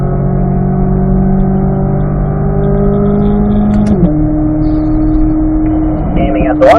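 A car accelerates steadily along a straight on a track, its engine note holding and rising with a gear change near the end, while a driver keeps talking over the engine throughout.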